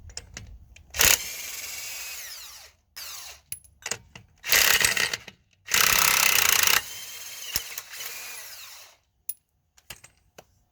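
An impact gun with a 1 5/16 socket on 3/4 drive spins lug nuts off a truck wheel, firing in several loud bursts of rattling hammering separated by quiet gaps and short clicks.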